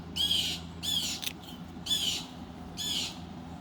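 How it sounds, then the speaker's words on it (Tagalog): A bird squawks outdoors in a Philippine garden during a kangkong harvest, giving four harsh, bright calls in an uneven rhythm over a steady low background hum, fairly close and clear. "Ay, ibon."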